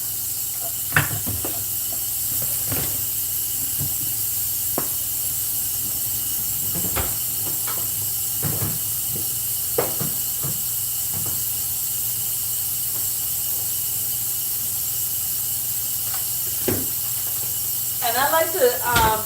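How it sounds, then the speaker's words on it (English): A covered pan holds a portobello mushroom steaming, giving a soft steady hiss throughout with scattered clicks and light clatter, and a brief clatter near the end. "I like to put a cover over this so the mushroom can steam."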